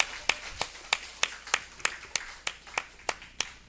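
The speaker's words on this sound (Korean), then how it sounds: "박수합니다" A church congregation at a Sunday morning service claps in a steady rhythm, about eleven distinct hand claps spaced roughly a third of a second apart, moderately near and not very loud, with no talking over them.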